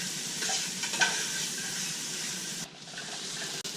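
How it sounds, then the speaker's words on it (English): Onions and peppers seasoned with kosher salt sauteing in a pan for chili, a steady close sizzle with scraping stir strokes, briefly dipping near the end. "Stir it around until the onions and peppers get a little translucent"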